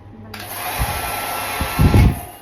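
A hair dryer whirs steadily at close range, with a few low thumps and handling knocks over the hum.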